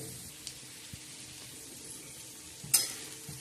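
Fried spiny village okra being stirred on a tawa, a few soft scrapes and clicks over a faint background sizzle, with one sharper metallic scrape near the end.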